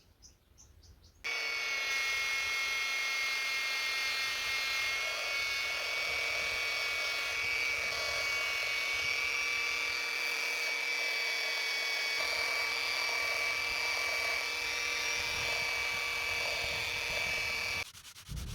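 Sanding and shaping wooden handles for a restored rusty machete, heard as a steady, loud whirring power-tool drone that runs continuously for most of the clip after a quiet start, with no talk.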